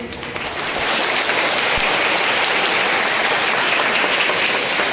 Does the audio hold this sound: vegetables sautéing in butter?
no